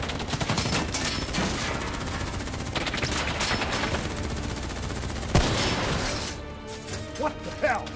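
Dense, sustained gunfire rattles through a mission of Call of Duty: Black Ops III, continuous fusillades with a sharp crash partway in, then thinning into scattered shots and clatter while voices talk over the action.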